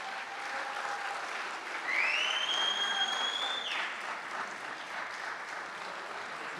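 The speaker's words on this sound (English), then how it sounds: "One round of applause" Steady applause from an audience at a university athletics hall of fame induction ceremony, a continuous wash of clapping heard at moderate distance with a brief whistle-like tone rising over it partway through.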